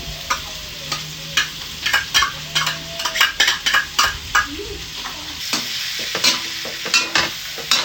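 A spoon stirs beef kaldereta with liver spread in a sizzling pan, giving a steady run of close, rhythmic scraping and clinking against the metal over a constant frying hiss.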